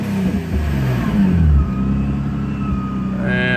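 Supercharged Infiniti G35 engine revving, a loud, close mid-pitched growl that swells and falls, then begins to climb again toward the end.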